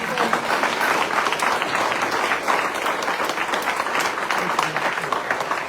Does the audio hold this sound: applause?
yes